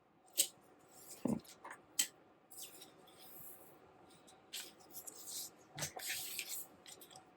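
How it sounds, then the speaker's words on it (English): Scissors snip the centers of zipper tape for a sewing project, a few quiet crisp cuts scattered between soft handling rustles in a still room, no voices. "I'm going to snip the centers on my zipper tape as well"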